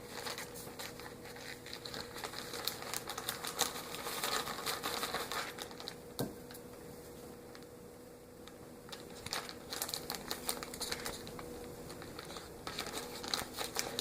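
Crinkling and rustling of a plastic Ziploc bag as fudge ingredients are placed inside, a steady run of soft crackles lasting throughout with a few sharper handling noises, no talking.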